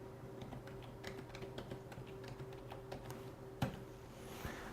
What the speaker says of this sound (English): in your browser, you're going to go ahead and type in that default gateway